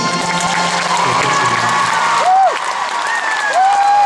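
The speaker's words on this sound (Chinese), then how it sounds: "再一次用最热情的掌声加尖叫声" A large concert audience claps and cheers loudly and continuously, with a few high whoops rising above the applause.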